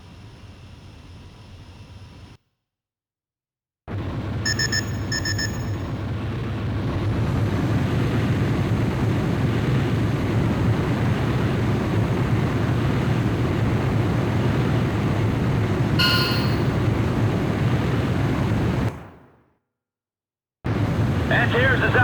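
Jet fighter launching in Ace Combat: Joint Assault, a loud steady engine roar that builds and holds for many seconds, broken by brief silent gaps, with radio voices over it.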